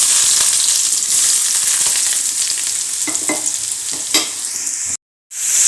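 Chopped onions frying in hot oil over mustard seeds, a loud steady sizzle with a few scraping stirs in the middle, cutting out briefly near the end before resuming.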